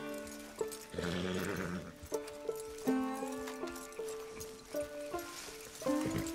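Horse sounds in the video game Red Dead Redemption 2, with a whinny and snorts among tonal game music notes, moderately loud, no talking.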